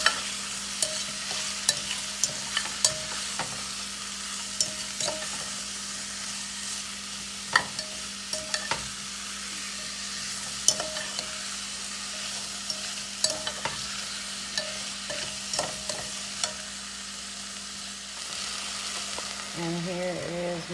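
Onion soup sizzles steadily in a pot while a utensil stirs it, with scattered scrapes and clinks over a constant frying hiss and a low hum, close-up and continuous, with no speech.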